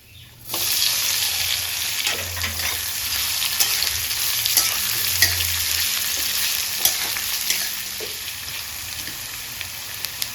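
Dried red chillies and cumin seeds sizzle loudly in hot oil for chicken curry before chopped onions go in, a steady crackling fry that starts abruptly and carries on with small pops.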